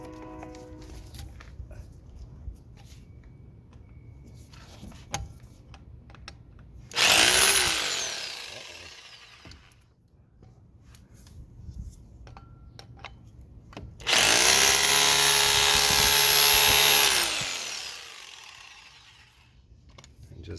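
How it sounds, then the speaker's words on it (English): Two loud bursts from a rotary hammer driving out a ball joint on a Geo Storm, one short and one lasting about three seconds, with quiet mechanical fiddling in between. "Got a little rotary hammer."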